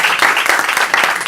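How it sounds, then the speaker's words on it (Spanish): Applause from a conference audience thanking a speaker, a dense, steady wash of many hands clapping throughout, fairly loud and close, with no voices over it. "Yo quería pedirles a ustedes que me acompañen un gran aplauso para agradecerle a..."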